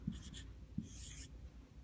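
Pen or marker writing out a fraction math problem, a few quiet, short scratchy strokes and taps close by, soft and brief with nothing else heard.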